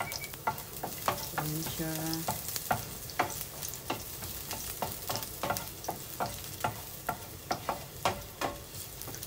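Garlic sautés in a hot pan with a steady sizzle and frequent clicking spatula strokes in an uneven rhythm, close up, while a voice briefly speaks over it.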